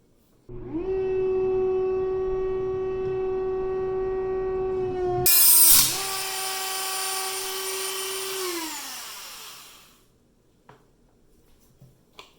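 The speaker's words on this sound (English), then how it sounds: "I'm going to try cutting/grinding right up here at the junction" A power tool grinds and cuts into the metal of a knife at the junction of blade and handle, a sustained whining tone that jumps to a harsh screech midway, then winds down and stops.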